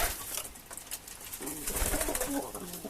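Pigeons cooing from a rooftop coop housing a flock of tumbler-type pigeons, with soft repeated low coos growing steadier in the second half over a faint outdoor background.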